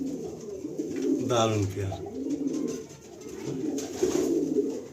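Breeder-pair pigeons coo softly in a loft, their low throaty calls repeating under a voice speaking nearby.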